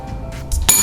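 A quiz buzzer bell rings once at a Maulidur Rasul quiz event, a bright metallic ding that sounds sharp and close after a quieter stretch of room noise.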